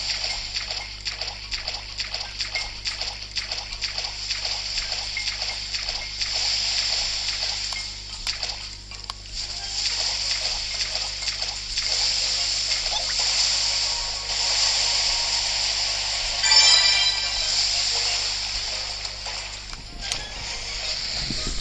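Water waves in the Disney Magic Castle 2 video game rush and splash in a steady, fairly loud wash, with repeated surges and a brief louder splash near the end.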